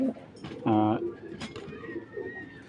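Pigeons at a Bangladeshi pigeon farm give a single close, throaty coo lasting under half a second, with faint talking and rustling around it.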